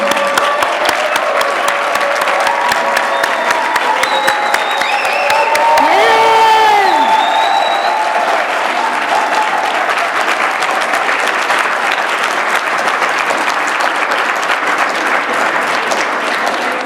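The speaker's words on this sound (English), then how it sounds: "you guys have to stand so we can give you a big round of applause" Loud, sustained applause from a large crowd honoring graduates at an in-person graduate exhibition and thesis capstone reception, with cheers and whoops rising over the dense clapping throughout.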